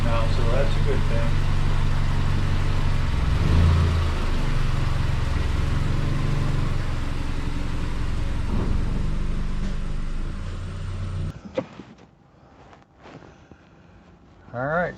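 A 2009 Subaru Outback engine running steadily while driving, a continuous low rumble with road and wind noise for about eleven seconds before it abruptly drops away to near quiet with a few faint knocks.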